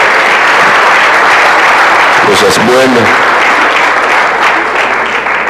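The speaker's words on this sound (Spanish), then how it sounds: "Démosle palmas al Señor." Church congregation at a pastors' retreat in Dallas applauding loudly and steadily, a dense sustained wash of clapping while someone speaks briefly over it.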